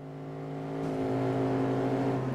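A strong V8 engine revs steadily in Gran Turismo, a car modded to sound like a Shelby Cobra, its deep rumble swelling a little louder and holding a sustained, throaty drone throughout.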